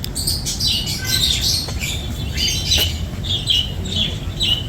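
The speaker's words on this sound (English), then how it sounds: "There's birds in here too, peacocks, and there's ducks and swans in here." Budgies and cockatiels chirp and squawk in a busy aviary, a dense overlapping chatter of high calls over a steady low rumble of background noise, with no talk.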